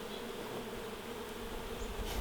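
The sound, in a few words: returning worker honey bees buzzing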